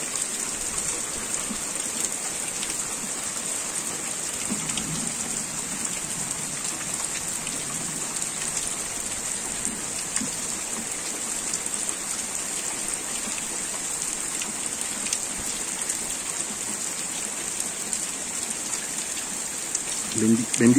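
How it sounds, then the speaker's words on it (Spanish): Heavy rain falls steadily during a storm over a rural community near rivers, a dense, even hiss on surfaces throughout with no pauses, close and fairly loud, with a few faint low sounds mixed in. "Miren la bendición tan grande de ver llover"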